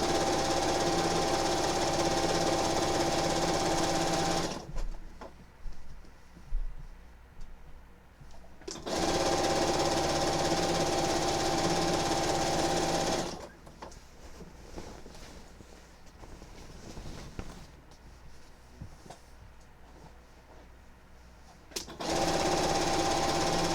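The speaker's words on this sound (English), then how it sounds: "sew all the way down" A sewing machine stitching quilt binding runs in loud, steady bursts, stopping twice for several seconds of quieter handling noise before starting again.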